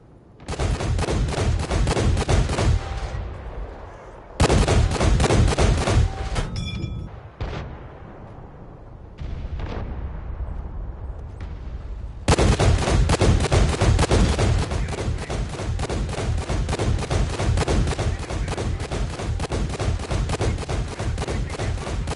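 Tank cannon fire in World of Tanks: heavy booming shots in loud bursts, several blasts in quick succession, then a quieter stretch with a few thuds and rumbling before sustained loud gunfire resumes to the end.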